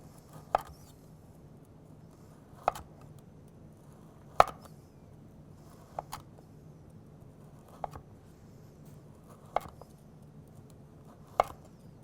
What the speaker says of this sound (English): we're going to make about 1/4 inch slices all the way down the log